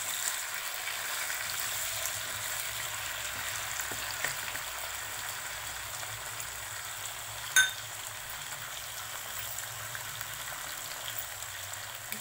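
A pan fries gently while lachha paratha is being made, giving a soft, even hiss that runs steadily throughout, with one brief clink near the middle and no voices.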